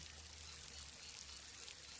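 Water pours steadily into a fountain, a dense, continuous splashing rush that stays close and fairly quiet for the whole moment, with no voices.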